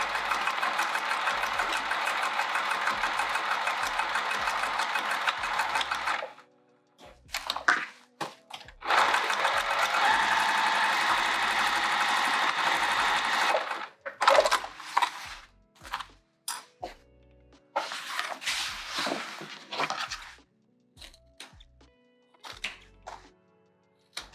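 A sewing machine stitches the lining of a zipper pouch made from an upcycled skirt, running in long steady bursts, then shorter start-stop runs with clunks between them, close and loud.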